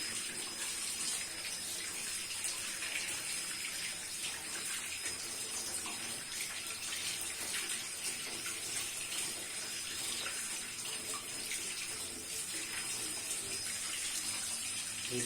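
Tap water runs steadily as small fresh fish are washed in a kitchen while cooking traditional Pakistani fried fish, a constant close gushing splash with no pauses.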